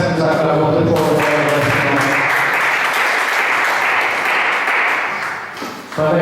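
A church congregation applauds loudly and steadily during a worship service, with broadband clapping sustained for about five seconds, overlapping voices and cheering beneath, before briefly dipping and swelling again at the end.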